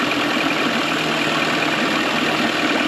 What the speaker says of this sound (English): the motor starts to slow down